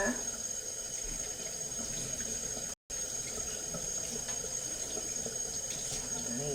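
A tap runs steadily while food is washed for a rad na dish, a continuous close rush of water with a single brief cut partway through.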